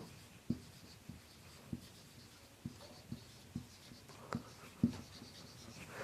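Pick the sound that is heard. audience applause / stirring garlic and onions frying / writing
writing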